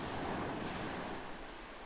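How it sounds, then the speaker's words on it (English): Steady ocean surf washes continuously with a salty sea breeze blowing across it, a dense, even roar without pauses or voices. "Breathe in that ocean breeze, fresh air laced with salt."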